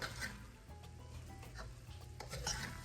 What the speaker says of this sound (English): I'm gonna let it fry for another 10 minutes